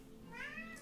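A house cat gives a single soft, drawn-out meow that rises and then falls, faint and close, with no speech over it.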